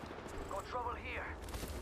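Gunfire rings out in a video game: a sustained burst of shots and crackling impacts fills the short stretch at moderate loudness, with some voice-like sound mixed in.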